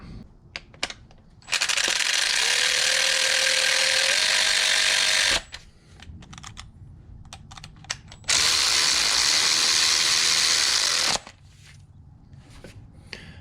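Power tool running down supercharger bolts on a 2000 Ford Lightning in two sustained bursts of a few seconds each, close and loud, with pitch rising in the first, separated by clicks and clatter of handling parts.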